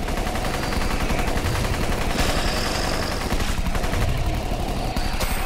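Rapid automatic turret gunfire in the video game Guns N Zombies, a dense continuous stream of shots, loud and close throughout, with no talking.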